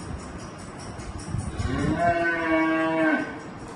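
A single cow moos, a long drawn-out low call rising into a steady tone, heard fairly close over faint background noise.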